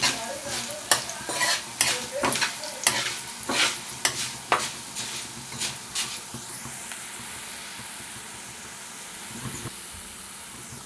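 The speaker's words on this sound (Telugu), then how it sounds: "ఆవాలు జీలకర్ర వేగాయి రెండు స్పూన్లు ధనియాలు వేస్తున్నాను" Coriander seeds frying with mustard seeds and cumin in a hot pan, a steady sizzle under a run of sharp spoon stirs and scrapes that come thick early on, then thin to a softer crackle.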